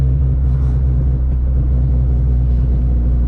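A K24-engined Honda Civic accelerates hard through its gears, heard as a loud, steady low engine rumble close up from inside the car, with no talking.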